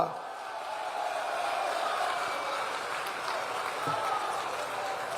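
Crowd at a West Bengal election rally clapping for candidate Arun Haldar, a broad, steady wash of applause that holds at even loudness for about five seconds, somewhat distant and muffled.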